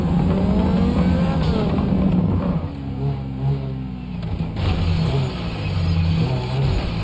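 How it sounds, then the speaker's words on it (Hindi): A speeding car engine in the video game GTA V roars loudly and steadily throughout, its pitch rising and dipping as the vehicle races along. "ओवर स्पीड हो रही गाड़ी"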